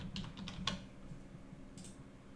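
Soft computer keyboard typing and clicking come from a nearby desk, a few light, quick taps in a quiet room with no talking.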